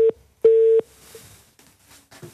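A telephone busy signal beeps twice on a studio call-in line after a caller drops, loud steady tones with a gap between, followed by faint low studio noise and a brief murmur.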